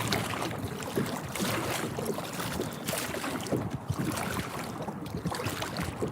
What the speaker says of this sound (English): That wind is definitely picked up a bit.